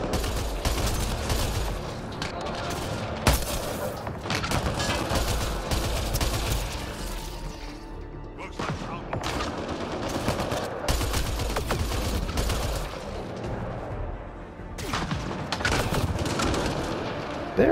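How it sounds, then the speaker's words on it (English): Incoming gunfire from enemies shooting at the player in the sci-fi action game Mass Effect: Andromeda, dense loud bursts of rapid shots and impacts crackling almost continuously with brief lulls between volleys. "I'm not sure who's shooting me."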